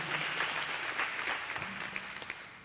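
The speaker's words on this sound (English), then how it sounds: "How about a round of applause for Alvin?" Audience at an annual awards dinner gala applauds astronaut Alvin Drew, a steady, fairly loud wash of clapping from a full room that holds throughout with a few sharper individual claps near the end.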